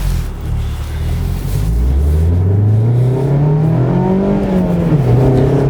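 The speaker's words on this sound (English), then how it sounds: "Let's go for a drive." A 2020 Mazda MX-5 RF retractable fastback drives in Canadian winter cold, its engine climbing steadily in pitch as it accelerates, loud and close with a continuous rising drone and no talk.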